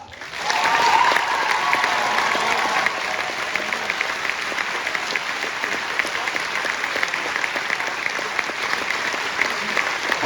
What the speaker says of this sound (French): Je vous demande de faire une ovation à Marichka.